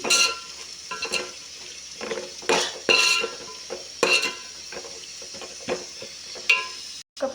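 A spoon stirs and scrapes curry with fresh coriander in a cooking pot. Repeated clattering scrapes and knocks sound close up over a soft frying sizzle.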